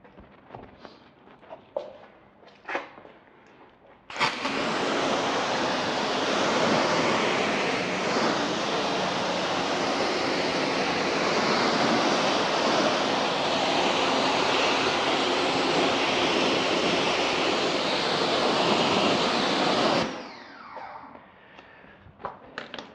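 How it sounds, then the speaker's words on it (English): A pressure washer sprays the front of a car wheel in one loud, steady, broadband hiss lasting about sixteen seconds, with quieter handling noises before and after. "going to pressure wash off the front of the wheel here"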